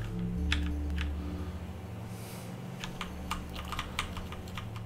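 Computer keyboard keys tapped in quick irregular bursts, WASD and cursor keys pressed during a game, clicks close and crisp over a steady low hum of game background sound.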